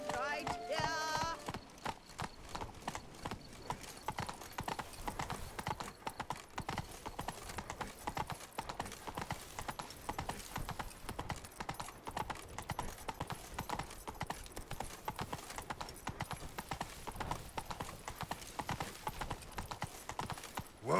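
Roach the horse in The Witcher 3 trots with steady, rhythmic clip-clopping hooves close by, a brief whinny at the start, under some faint speech.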